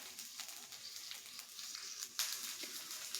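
Peanuts roast with chillies in a pan for thecha, a close, bright hiss of dry frying with light rattling and a sudden louder crackle midway, with no talking.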